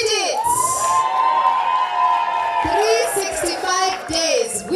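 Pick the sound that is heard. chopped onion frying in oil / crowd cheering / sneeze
crowd cheering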